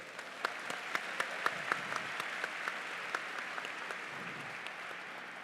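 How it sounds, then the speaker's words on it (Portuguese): Moderate applause from a crowd for a speaker at a talk, steady clapping with a few sharper individual claps standing out, fairly distant and gradually thinning toward the end. "Salva de palmas para o Daijo-san aí."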